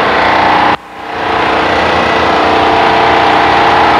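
A positive displacement pump growls at its outboard end, with a leaking mechanical seal and a suspected timing gear or bearing fault. It gives a loud, steady mechanical drone that dips briefly before settling back to full level.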